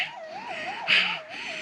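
An ambulance siren in a Filipino drama wails in a fast, steady up-and-down pattern, loud and fairly close, with a brief sharper burst midway and no talk.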